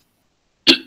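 A single sharp cough cuts through near silence, close to the microphone, made by a person with a cough who is addressing parents and teachers at a school briefing.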